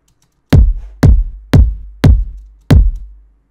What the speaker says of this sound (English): So it's very important to have a kick drum like this one.